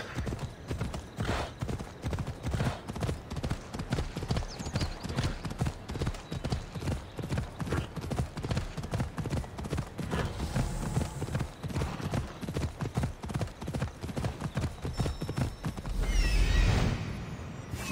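Horse hooves clip-clop in a video game with a fast, steady rhythm throughout, loud and close, with a faint whinny near the end.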